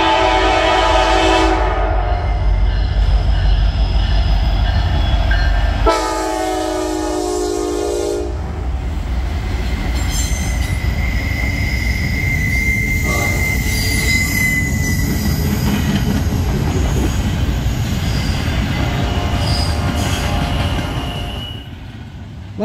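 Norfolk Southern freight NS 264, bound for Ayer, Massachusetts from Chicago with single-stack cars, rolls past on the D&H line, wheels squealing in long sustained shrieks over a loud continuous rumble of cars, with a brief horn-like tone early on.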